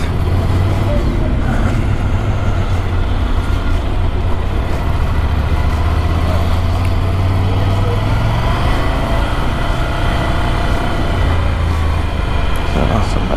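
A Ducati Monster 797+ motorcycle engine with a short 2-in-1 exhaust idles and revs nearby, a rough, throaty exhaust rumble holding steady throughout.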